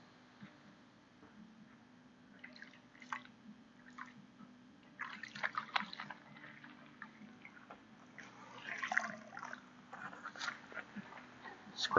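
Water and soapy splashes as more water is added to wool during wet felting a pouch around a resist, with scattered wet dribbles and squelches growing busier toward the end, faint and close.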